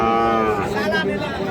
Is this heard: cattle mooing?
yes